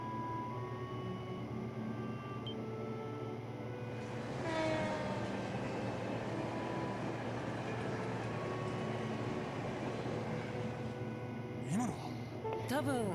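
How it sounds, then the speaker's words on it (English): Train passing at night in the video game Trails from Zero, a continuous rumbling roll of wheels and carriages swelling midway, with a brief horn-like tone near the end. "Is that the last train bound for Calvard?"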